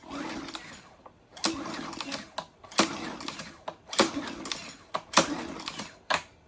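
A Troy-Bilt small engine, held with its spark plug against metal to check for spark, is cranked over in several separate clattering bursts with short pauses between them, close and fairly loud.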